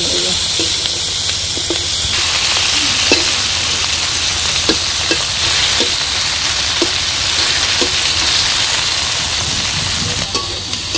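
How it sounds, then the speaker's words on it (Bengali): A hilsa fish head fries with garlic and green chilies in a village kitchen, giving a loud, steady sizzle and hiss with occasional spatter pops and stirring scrapes throughout. "ইলিশ মাছের মাথা ভাই জানিতেছে রসুন আর কাঁচামরিচ দিয়া"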